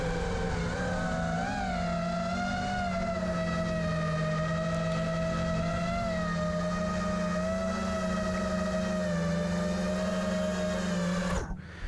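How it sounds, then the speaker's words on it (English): A quadcopter hovers with its motors oscillating from excessive D gain, a loud, steady, strongly tonal whine that wavers slightly in pitch for several seconds before cutting off abruptly at the end. "That kind of crickety sounding oscillation."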